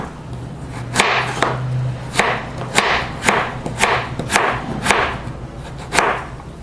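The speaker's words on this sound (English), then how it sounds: "we're doing a julienne cut, roughly 1/8 inch by 2 inches in length" A knife julienne-cutting vegetables on a cutting board, about a dozen crisp chops in an uneven rhythm, close and fairly loud, with a faint hum beneath.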